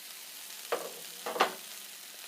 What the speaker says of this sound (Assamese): গৰম পানী দিছোঁ ইয়াতে।